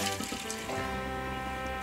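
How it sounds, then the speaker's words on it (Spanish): Cold water pours steadily into a cooking pot for fish stock, a continuous splashing stream heard close up with no talking. "ahora le vamos a poner ya enseguida el agua fría"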